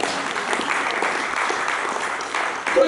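A church congregation applauds through a sermon, a steady broadband clatter of many hands clapping that fills the space without pause and swells slightly near the end.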